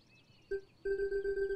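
High, steady ringing tone in the game Long Gone Days, simulating tinnitus ear-ringing: a brief burst, a short gap, then a sustained pulsing ring that continues to the end, alone with no talk.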